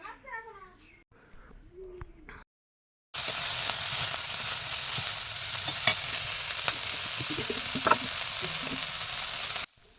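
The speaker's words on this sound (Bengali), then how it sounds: "এবার এই দেখো বাঁধাকপিটা দিয়ে দিলাম। এটাকে ভালো করে নাড়াচাড়া করে কমিয়ে নেব।" Cabbage stir-fried with crab in a pan: after a pause, a loud continuous frying sizzle with scattered stirring clinks; a voice and other talk come before the sizzle begins.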